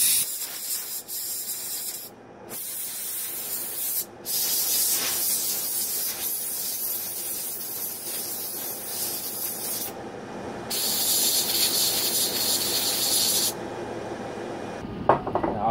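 WD-40 is sprayed from an aerosol can into a brushed RC motor in long, loud, close hissing bursts, broken by brief pauses and with a small clatter at the very end.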